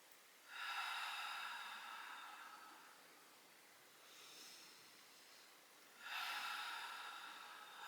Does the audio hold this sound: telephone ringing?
no